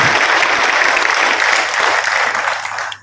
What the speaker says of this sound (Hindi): एक जोरदार तालियां मैं चाहूंगा कि आप उनको दें।